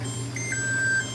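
Electronic kitchen timer beeping in a home kitchen while jam is being canned in a boiling water bath, a couple of short clear tones over a steady low hum.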